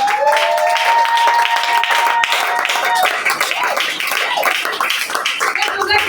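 A church congregation applauding during a sermon, dense clapping from many hands filling the room, with voices rising over and among the claps throughout.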